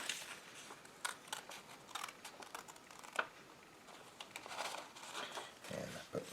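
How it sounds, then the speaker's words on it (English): Scissors make a steady series of quiet, crisp snips through paper, close by, with faint rustling as the sheet shifts between cuts. "nice slow cuts, turning the page as we go so that we can keep the line"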